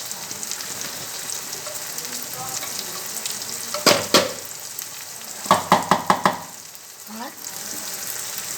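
Turmeric, salt and spices sizzling in a little oil for ghugni, a soft continuous fry punctuated by sharp crackling bursts and spatters, with a brief lull before the sizzle resumes.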